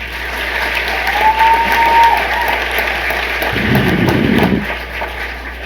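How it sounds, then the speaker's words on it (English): An audience applauds teachers at a school district event, with a steady wash of clapping throughout and a brief low rumble partway through. "Let's give these teachers a round of applause."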